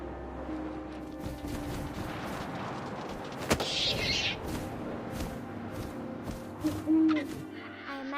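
An owl in the video game What Remains of Edith Finch gives a single hoot partway through, over a rough, windy ambience with scattered thumps.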